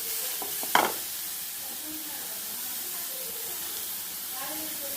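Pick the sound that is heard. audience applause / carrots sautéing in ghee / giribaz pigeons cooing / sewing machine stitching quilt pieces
carrots sautéing in ghee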